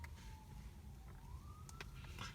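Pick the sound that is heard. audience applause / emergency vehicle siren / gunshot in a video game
emergency vehicle siren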